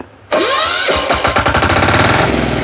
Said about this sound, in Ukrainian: І аля працює Мотор Січ. Найкращий мотоблок не лише в Україні.